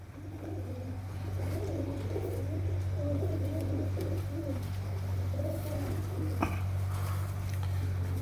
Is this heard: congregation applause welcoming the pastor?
no